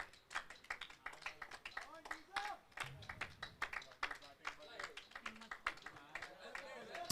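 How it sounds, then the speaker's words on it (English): Scattered clapping from a small crowd greets a batsman at a local cricket final. The claps are faint and uneven, mixed with people talking nearby. "Well, he deserves that applause."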